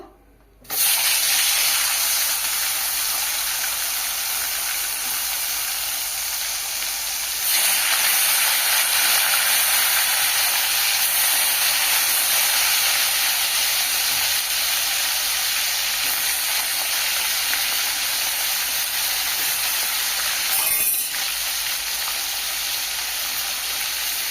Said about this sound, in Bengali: তেল গরম হয়ে গেছে, তেলের মধ্যে মাছ দিয়ে দেবো।